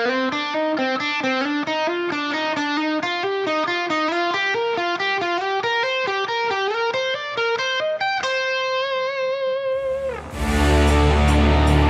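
An electric guitar lick with a distortion effect plays a quick run of sustained notes, loud and close, resolving onto a held root note before a noisy burst at the end.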